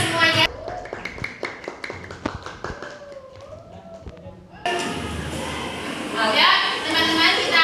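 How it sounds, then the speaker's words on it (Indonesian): Students in a junior high science classroom clap for a group, with sharp claps scattered at first, then breaking into fuller, denser applause mixed with young voices talking. "Kita beri tepuk tangan ya kelompoknya."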